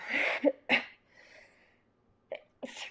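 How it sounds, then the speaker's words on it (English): A woman gives a few quick, close sneeze-like bursts and breathy catches, separated by short quiet gaps, with a fainter exhale in between and no speech. "Sorry, I need to sneeze."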